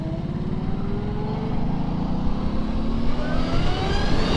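A Zero SR/F electric motorcycle accelerates with a rising, steady motor whine layered over road and wind noise, continuous and fairly close throughout.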